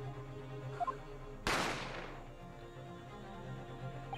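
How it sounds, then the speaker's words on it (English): A single sharp gunshot in The Great Ace Attorney Chronicles video game, one loud crack with a brief decaying tail over a quiet background. "You heard the gunshot, you mean?"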